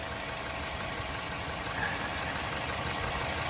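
A 2014 Chevy Cruze with a bad catalytic converter runs steadily at idle, a constant broadband engine hum with no speech, close and even in level throughout.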